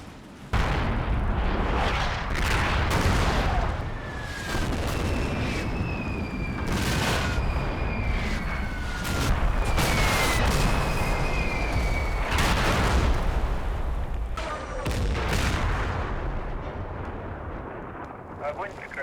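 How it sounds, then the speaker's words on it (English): A heavy off-map mortar strike rains down in the Combat Mission Red Thunder war game, a dense continuous barrage of booming explosions with whistling incoming rounds throughout. "The mortar platoon HQ calls in a heavy strike on the Pak-43 position using the off-map mortars."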